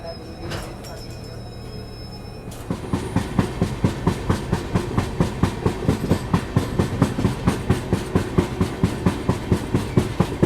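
Kashi Vishwanath Express train on the Delhi to Lucknow line, quiet at first, then picking up into a loud, regular clickety-clack of wheels over rail joints that beats steadily and close.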